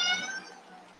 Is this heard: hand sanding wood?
no